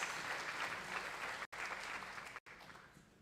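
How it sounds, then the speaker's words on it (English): Audience applause at a seminar as a panel speaker comes to the stage, a steady dense clatter of clapping that breaks off twice in sharp gaps before resuming slightly softer. "Please, round of applause from the audience"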